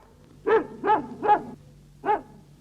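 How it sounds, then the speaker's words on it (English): A cartoon dog from the 1969 animated series Mary, Mungo & Midge barks four times, sharp and close. Three quick barks come in a row, then a brief pause before a final one, over a quiet background hum. "Mungo barked."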